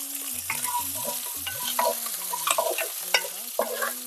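Ginger, garlic, curry leaves and fenugreek sautéing in a pan for fish curry, with a steady soft sizzle broken by close scraping stirs and light metallic clinks of the spoon; no one speaks.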